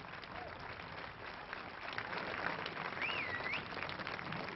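Audience applause at a 1975 tribute jazz concert in Nice, a dense steady wash of clapping from a large crowd that swells slightly midway, with a faint whistle over it.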